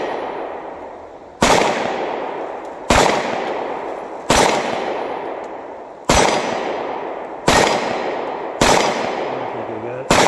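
Loud, sharp shots from a Buffalo Cartridge Company BRG9 Elite pistol ring out one at a time at roughly one-to-two-second intervals, each crack followed by a long echoing decay outdoors.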